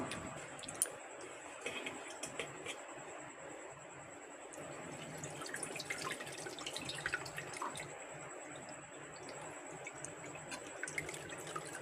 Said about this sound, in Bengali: এবার আমি জলটা ঝরিয়ে নেব।